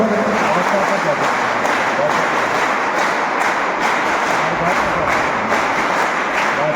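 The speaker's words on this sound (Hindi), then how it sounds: "जोरदार ताली बजाकर" A political rally crowd in Harda, Madhya Pradesh, applauds loudly on cue, a dense, sustained roar of clapping that holds steady and close throughout.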